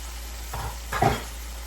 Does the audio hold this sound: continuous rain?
no